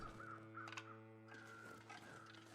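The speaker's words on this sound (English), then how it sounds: "I can hear crows again off to our left." Crows caw in the snowy wilderness of the video game The Long Dark, a few faint cawing calls over a steady low background hum of wind.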